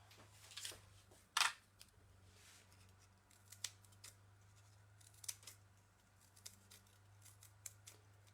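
Scissors snip foliage material for a relief map, quiet separate cuts at irregular intervals with one sharper snap near the start, over a low steady hum.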